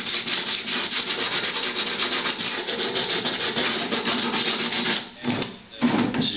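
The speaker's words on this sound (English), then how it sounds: "I have my sanding block here, and you're just going to want to scuff it down" A sanding block with 80 or 60 grit paper scuffs a fiberglass helmet in loud, continuous, close rasping strokes that briefly pause near the end.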